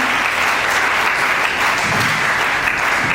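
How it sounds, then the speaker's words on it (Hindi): Steady, dense applause from an audience at a Hindi-language commemorative discussion and award ceremony, continuous and even throughout with no pauses. "आप लोगों के लिए तालियां अच्छी सी बजनी चाहिए"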